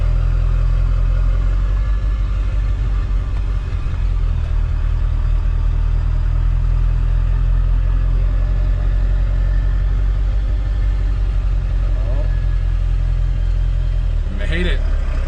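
A Ford Super Duty truck with a 7.3 Powerstroke diesel engine and a swapped 2005-on axle drives slowly in a tight turn, its deep engine rumble loud and constant from inside the cab, with people talking over it.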